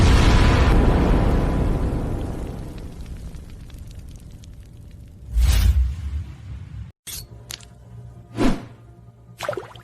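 A detonation sound effect in an animated fantasy story, opening with a heavy rumbling blast that slowly fades, followed by several sharper bursts and pops, loud and close.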